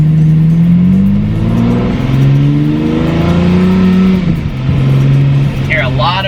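A Mercedes SL63 AMG with a single-clutch transmission revs up during a downshift. The engine drone is loud and near and rises in pitch in steps, and a voice talks over it.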